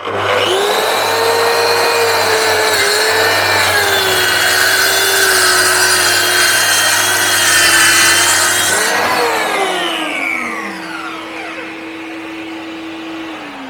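A Mafell MT55 plunge saw with a 24-tooth blade rips lengthwise along the grain of a wooden board, a loud sustained whining cut with a steady motor tone that winds down after the pass as the blade spins to a stop.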